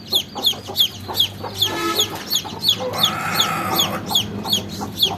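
Aseel fighter-breed hens cluck repeatedly and close by in a rhythmic series of short calls, with a longer drawn-out call in the middle, in a backyard setting.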